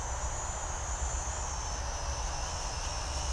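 Toy-grade Mavic copy drone lifting off, its small propellers giving a steady high-pitched whine and buzz that holds level throughout, close and unbroken.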